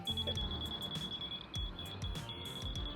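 A laser level receiver beeps a steady high-pitched tone in long pulses with brief breaks, under low rumbling and thumping from nearby work while forming for a backyard concrete slab.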